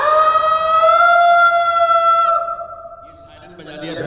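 A voice imitates a wailing factory siren with a steady high tone for about two seconds, then it slides down and fades as a crowd murmurs in the background at a business association meeting in a hotel.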